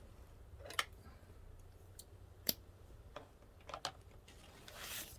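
Scissors snip through craft materials for a Dollar Tree Easter egg wreath, giving a few sharp, isolated clicks spaced a second or so apart at close range in a quiet room, ending with a soft rustle.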